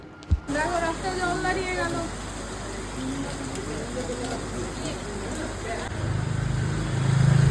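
Steady rain hisses continuously in the background while a person sheltering in a shop talks over it, with a low rumble growing near the end.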